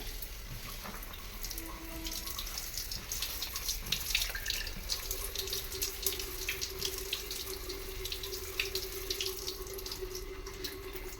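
Fresh drumstick leaves are rinsed under a running kitchen tap, a constant close stream of water splashing into a sink with faint dripping, and no talking.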